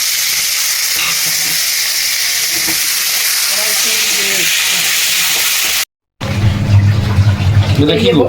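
Potatoes dropped into hot oil for a prawn and jackfruit dish in a home kitchen, giving a loud close sizzle and hiss with stirring, cut briefly by a gap, while a person talks over it.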